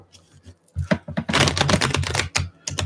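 Tarot cards being shuffled at a reading table, a close, rapid papery riffle and snapping of cards that builds into a dense flurry for a couple of seconds, then trails off in a few soft flicks.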